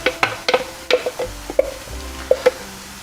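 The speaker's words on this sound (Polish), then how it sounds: "Smażymy buraki z jabłkiem" Grated beets and apple frying in a pan for a warm Polish beetroot side dish: a soft, steady sizzle broken by repeated sharp taps and scrapes of stirring, close and fairly loud.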